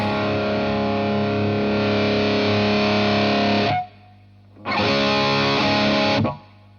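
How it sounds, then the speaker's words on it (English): An electric guitar through a Suhr Riot distortion pedal at high gain, tone turned up for a fizzy sound, rings out in two sustained chords, the first held several seconds, then a brief gap before the second. "And gets pretty fizzy all the way up"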